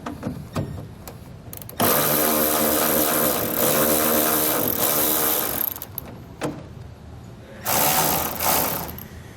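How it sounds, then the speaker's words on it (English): A ratchet with a 1/2-inch socket backs out a tailgate strap bolt on a 2019 Chevrolet Silverado, giving a loud, close, sustained mechanical whirring buzz for several seconds. A second shorter burst follows after a few light clicks and handling noises. "We're going to take a 1/2-inch socket. We're going to move this bolt"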